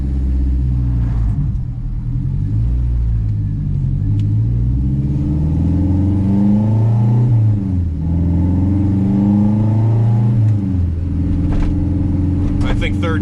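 A 500HP turbocharged Honda K24 engine rumbles loudly and close, with deep revs swelling and dropping over a continuous throbbing idle.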